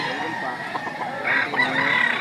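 A rooster crows in the middle distance at a chicken market in Lipa, Batangas, over a steady background hum, with the call rising in a few drawn-out bursts.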